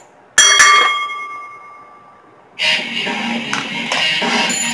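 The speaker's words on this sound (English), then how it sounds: "Ring the bell." Wrestling ring bell struck repeatedly after a pinfall at an ECW Extreme Rules match, loud metallic clangs up front followed by a swell of crowd noise.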